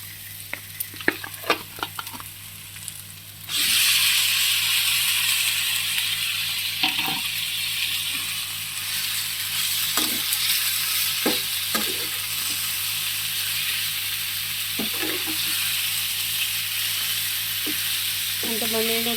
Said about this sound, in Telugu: ఇప్పుడు ఈ చేప ముక్కల్ని మనం ఇందులో వేసుకుంటున్నామండి